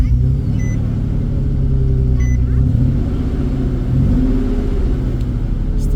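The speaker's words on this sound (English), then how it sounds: "Let's turn the car on." Nissan Xterra engine running after an ignition coil change, with a still-present misfire: a loud, close, low idle rumble with slight uneven shifts in pitch throughout.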